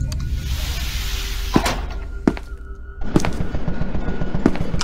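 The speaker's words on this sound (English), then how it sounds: "I hear gunshots." Gunshots sound in the video game SCP Containment Breach: several sharp, separate reports spaced a second or so apart over a steady low rumble, fairly loud and with some reverb.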